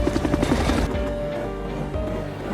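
A helicopter's rotor thumps in quick rhythmic pulses at first, then gives way to a steady droning engine hum, fairly loud and close.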